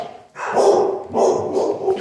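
Dogs bark repeatedly at close range, several sharp, loud barks in quick succession with brief gaps between them.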